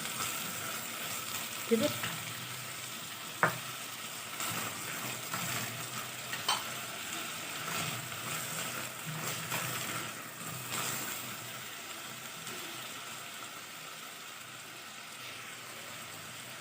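Chopped vegetables sautéing in a pan for vegetable soup, a continuous soft sizzle with occasional stirring clinks, close but fairly quiet, with a brief word of speech.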